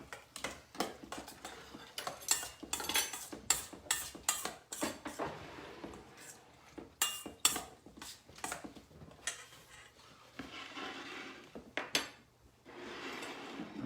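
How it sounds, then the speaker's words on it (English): A utensil stirs food in a pan, giving quiet, rhythmic metallic clinks and scrapes in bursts with short pauses between them. "I'm gonna stir this."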